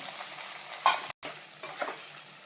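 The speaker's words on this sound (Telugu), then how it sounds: "ఈ ఫ్రై చేసుకున్న ముక్కలు ఉన్నాయి కదండి, మటన్ ముక్కలు అందులో వేసుకోవాలి. అందులో సిమ్లో పెట్టుకొని కలుపుకోండి." Fried mutton pieces being stirred in a pan over a low flame for pickle, with soft scraping and a faint sizzle, one sharper clink near the middle and a brief gap of silence.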